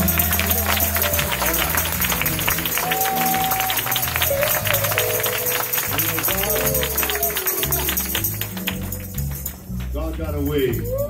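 Congregation clapping by hand in church during a Saturday night holy convocation in Cleveland, Ohio, a steady dense rhythm of claps carrying over music with a sustained tone, loud and close throughout, dipping briefly near the end.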